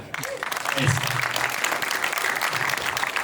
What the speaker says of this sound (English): I was going to say a big round of applause, but I don't think I needed to say it.